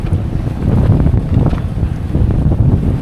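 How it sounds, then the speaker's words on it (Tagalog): Strong wind at Dingalan, Aurora buffets the microphone in a steady, loud roar with low rumbling gusts throughout, no voices present. "Lakas ng hangin."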